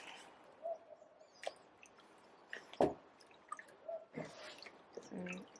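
Paper pulp for recycled paper is stirred in a tub of water, making faint, sporadic sloshes, drips and squishy splashes with quiet gaps between them.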